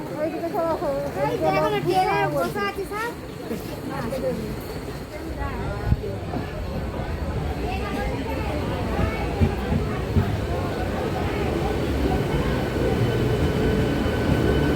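An Amta-to-Howrah train rumbles steadily past a station nearby, its low roar filling the air while people talk over it in the foreground.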